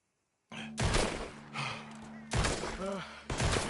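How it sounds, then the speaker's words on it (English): Several sharp, loud gunshot blasts in the video game Red Dead Redemption 2 ring out in separate bursts with echoing tails, some voice sounds between them. "The gunshots are coming from that barn."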